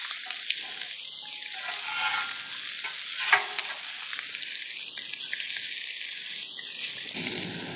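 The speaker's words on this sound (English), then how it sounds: "nothing sounds better than sizzling food on a brand new black stone" Steady crackling sizzle of food frying on a new Blackstone griddle, close and continuous, with occasional scraping and clinks of a utensil.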